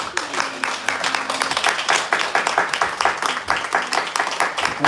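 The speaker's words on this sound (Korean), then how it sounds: "박수였습니다." A congregation applauding during a church service, a dense, continuous patter of many hands clapping for several seconds, moderately loud and steady, with no talking over it.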